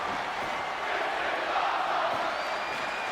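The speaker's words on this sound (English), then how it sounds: "You can hear the crowd is into it for an impromptu match here on Ignition." Wrestling crowd at an independent show, a steady wash of cheering and shouting that holds evenly throughout, with no clear peaks, heard as a dense background roar.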